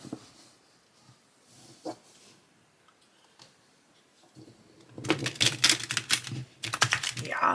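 A thick tarot deck is handled quietly at first, then riffle-shuffled in rapid crackling bursts over the last few seconds, close and fairly loud.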